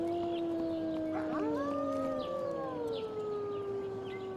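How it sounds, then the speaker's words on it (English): Zombie dogs in the survival game HumanitZ let out long, wavering howls that overlap and bend in pitch, moderately loud over a quiet backdrop, with no talking. "So there's a couple little zombie dogs"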